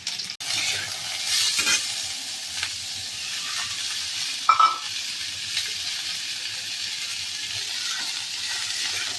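Garlic and onion frying in a pan, a steady close sizzle with occasional spoon scrapes and one brief clink midway, no speech.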